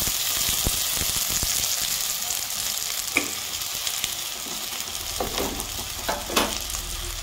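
Ridge gourd slices coated in gram flour fry in hot oil with a continuous close sizzle, broken by a few sharp clicks and scraping turns of a utensil, and no one speaking.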